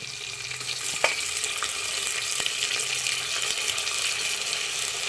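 Onion and tomato fry in a pan for khichdi, giving a steady, close sizzling hiss with a few light clicks of a spoon against the pan.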